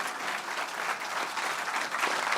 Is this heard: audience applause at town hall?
yes